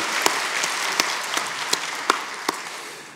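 A church congregation claps in praise during a Sunday worship service, a soft wash of clapping punctuated by a few sharp, louder individual claps, fading slightly toward the end.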